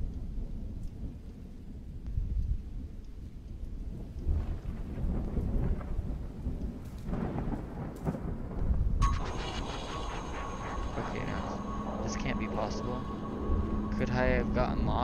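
Low rumbling thunder rolls under steady rain in a video game, with a sharper crack midway; later a musical, tonal layer joins the storm noise.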